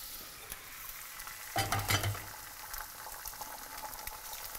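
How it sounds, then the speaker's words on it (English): Eggs, four of them, hit melted butter in a hot pan with a sudden loud crackle, then settle into a steady, fainter sizzle. "I'm going to break 4 eggs into the pan."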